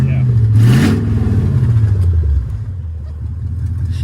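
A 2002 Mercedes S500 engine, bought cheaply at auction, running close by with a low steady rumble and a brief rise in revs before it settles back toward idle, with people talking over it.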